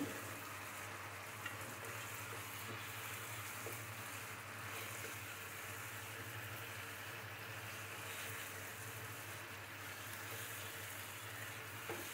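Fried country chicken pieces frying in a pan for a chicken roast, giving a steady, even sizzle with faint stirring under it and no talking.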